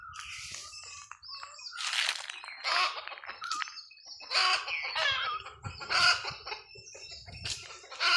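A free-range country hen cackling after laying an egg, with repeated loud, close squawking clucks in uneven bursts and no talk over it.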